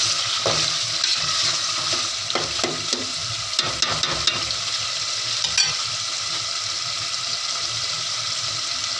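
Tomato masala with meat stirred and fried in a pan for bhindi gosht, a steady close sizzle running throughout with scraping spoon strokes in clusters, especially in the first half.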